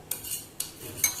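Melted butter is spread around the inside of a Borosil microwave bowl, giving three light, quiet scraping taps spaced about half a second apart, with no talking.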